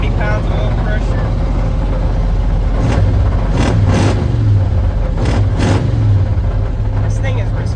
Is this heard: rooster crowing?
no